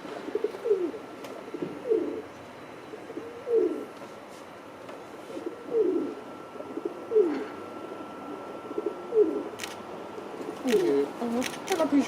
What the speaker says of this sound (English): Oh, hello, pigeon.